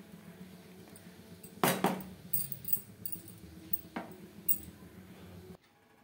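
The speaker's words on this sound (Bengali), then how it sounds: "এবার এটাকে খুব ভালোভাবে নাড়াচাড়া করতে হবে, যেহেতু দুধের জিনিস নিচে লেগে যেতে পারে, এই জন্য একভাবে নাড়তে হবে।" A spoon stirs milk in a pot for Bengali rice pudding (payesh), giving a few scattered clinks and scrapes against the metal, quiet overall with one louder clatter.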